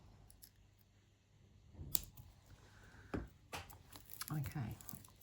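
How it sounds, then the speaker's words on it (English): Cutters snipping beading wire while making a beaded turtleneck sweater necklace, a few sharp close clicks and snips among faint handling rustles. "now we can cut our wire off"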